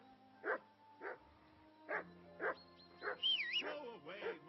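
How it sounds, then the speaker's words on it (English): Dog barking in the medieval role-playing game Kingdom Come Deliverance II, several separate barks spaced about a second apart, followed by whining, whimpering yelps, heard fairly close against a quiet background. "I assume you can hear that damn dog of yours bark."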